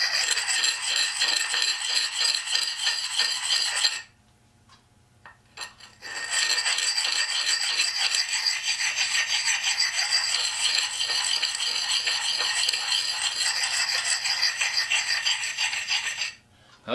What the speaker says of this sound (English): This kind of stone, you see people sharpening axes with.